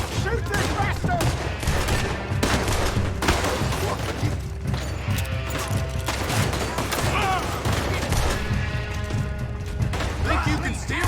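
Gunfire in Red Dead Redemption 2 crackles in a dense, continuous volley of shots and impacts, loud and close, with shouting voices over the fight.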